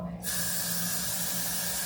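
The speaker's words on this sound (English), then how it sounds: "spray this on there" A short aerosol spray hisses onto wig lace, starting abruptly after a brief quiet moment and continuing as a steady close hiss.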